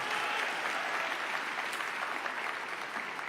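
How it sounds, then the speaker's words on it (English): Steady applause from an audience at a school ceremony honoring the DC Teacher of the Year, a dense even wash of many hands clapping throughout with no break. "Let's give Declan a round of applause again for that wonderful introduction."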